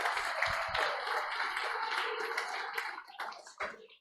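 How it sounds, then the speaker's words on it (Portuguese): A church congregation applauds the fathers with soft, dense clapping heard from a distance, which thins into a few scattered claps before stopping. "Você pode aplaudir cada papai."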